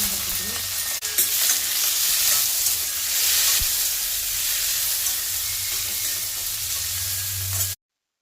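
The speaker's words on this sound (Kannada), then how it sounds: "ಇವಾಗ ಚೆನ್ನಾಗಿ ಫ್ರೈ ಆಗಿದೆ." Tomatoes frying in ghee and oil in a pan give a loud, continuous sizzle close by, with a brief clack near the start and a sharp knock midway, then the sound cuts off abruptly.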